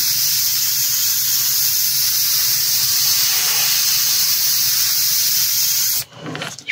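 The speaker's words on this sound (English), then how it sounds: "Spraying into the corner." Airbrush or paint sprayer hissing steadily and loudly up close while touching up edges on a quarter-scale Spider-Man 2099 figure, then stopping abruptly near the end.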